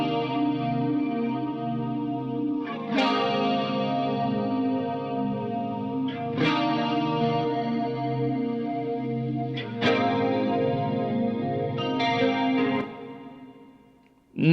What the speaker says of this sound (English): Let me show you the sound of the guitars.